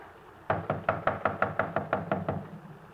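Police officers pound on a front door with about eleven firm, evenly spaced knocks, loud and close, each strike ringing out sharply over a quiet background with no talking.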